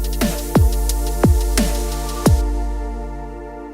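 A music track with a gated snare effect made using delay: punchy snare hits with pitch-dropping tails land irregularly over a sustained droning tonal bed, the hits cutting off abruptly and the mix fading at the end.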